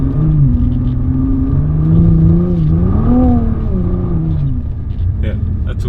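A 2017 Nissan GT-R drives through snow, its engine a loud, close, steady drone whose pitch climbs, dips and climbs again as the car accelerates and eases off.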